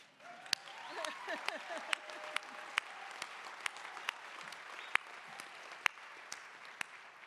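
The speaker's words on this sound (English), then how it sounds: "we have to clap for that" A crowd at a groundbreaking celebration for a Huntsman Cancer Institute comprehensive cancer center in Vineyard, Utah, claps steadily throughout, with a few sharp, loud individual claps standing out and a voice briefly heard over the applause.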